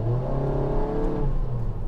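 A Honda Jazz 1.5 with a CVT gearbox is floored, and its engine holds a steady, loud, droning rev with a whining tone for about two seconds, close to the listener and with no talking.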